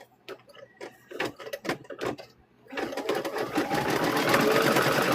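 A sewing machine stitches a quilt square, first in short separate bursts of rapid needle clatter, then in a loud continuous whirring run, close and unaccompanied by speech.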